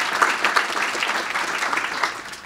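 Audience members at a 2018 State of the City address give the city council a round of applause, a full, lively burst of many hands clapping together, steady throughout.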